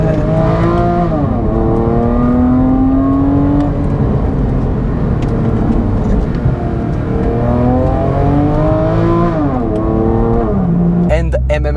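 Porsche 911 Carrera 4S of the 997 generation, fitted with an MM exhaust and catalytic converter, roars loudly while driving, its engine note rising and falling through gear changes with a steady revving drone close up.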